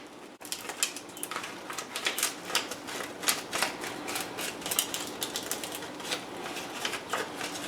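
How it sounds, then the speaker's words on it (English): A half sheet of dry nori folded in half for sushi gives a run of crisp, close crackles and clicks that repeat steadily throughout, with no talking. "I'm just going to be folding mine in half."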